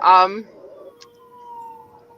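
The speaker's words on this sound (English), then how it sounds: "Oh, there goes an ambulance." A brief voice opens, then a passing ambulance siren hangs faint and distant as a thin, steady wail that slowly fades.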